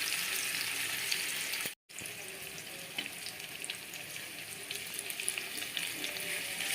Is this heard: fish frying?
yes